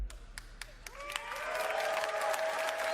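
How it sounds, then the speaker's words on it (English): An audience at the Ubisoft Forward showcase applauds and cheers, starting with scattered separate claps that swell into steady, continuous applause with whoops, heard from a distance in a large hall. "People are cheering for a subscription service?"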